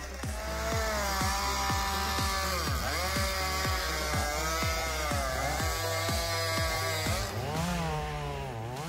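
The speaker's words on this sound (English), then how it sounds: "giant chainsaw woodcutting demonstration" A giant chainsaw cuts through a big piece of wood, its loud, steady engine roar rising and falling in a rapid, regular pulsing rhythm as the chain bites, then easing off near the end.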